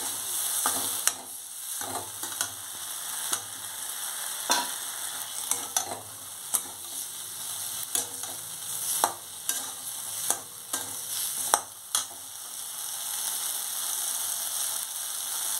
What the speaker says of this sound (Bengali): এবার আমি কেটে রাখা বেগুনটার মধ্যে দিয়ে দিচ্ছি